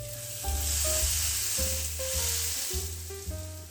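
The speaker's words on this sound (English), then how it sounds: "First, fry the side with the meat until it's cooked through." Shawarma meat sizzling steadily in a dry pan with no oil, a continuous frying hiss running under background music throughout.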